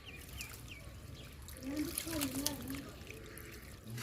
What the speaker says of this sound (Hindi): पूरी की पूरी दीवार जो है वो पानी के साथ तर हो रही है।